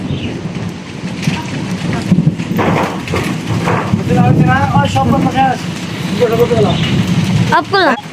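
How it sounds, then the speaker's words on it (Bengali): Heavy rain pours steadily through a village thunderstorm on a dark, overcast afternoon, with occasional low rumbles under a constant wash of drops; people talk over it and birds chirp briefly near the end. "প্রচুর ঝড় বৃষ্টির দিন, মানে মনে হচ্ছে ওই ঝড় হইব।"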